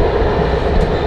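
Steady rumble and rolling noise from inside the Van Gölü Express passenger train while travelling, a continuous broadband drone with no talk.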